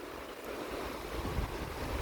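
Surf rolling onto a tropical beach in Florida, a steady continuous wash of waves with wind buffeting the microphone, no voices over it.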